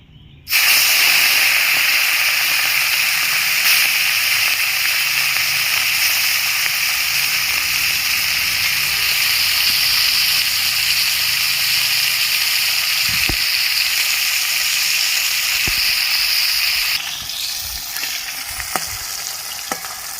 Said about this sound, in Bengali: কড়াইটা ভালো মতন গরম হয়ে গেছে তেলটাও গরম হয়ে গেছে এবার আমি মাছগুলো ভেজে নেবো